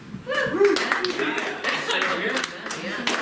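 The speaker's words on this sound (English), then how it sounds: "Another round of applause" An audience at a Valentine's Day couple improv show claps in a burst that swells and then trails off, with chuckles and a talking voice over the top.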